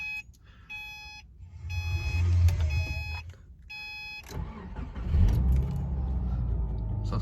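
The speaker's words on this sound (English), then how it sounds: "the first things you got to do is turn on your car" Several electronic dashboard chimes beep in a quiet Volkswagen car before the engine cranks and catches about four seconds in, then settles into a steady, close idle.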